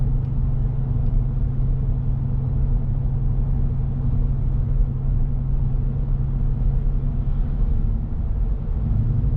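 A Ram 1500 with the 5.7 Hemi V8 and Borla S-Type catback exhaust cruises at 50 mph, producing a steady, low, droning rumble heard from inside the cab, even and unbroken throughout.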